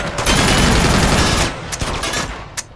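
Loud rapid automatic gunfire in the Uncharted 2 remastered action game, a dense burst of shots that runs about a second and a half, then tails off into a few scattered single cracks.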